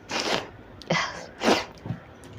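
Three sharp sneezes burst out in quick succession, close and loud with brief pauses between, no talk over them, during a hundred-sneeze challenge.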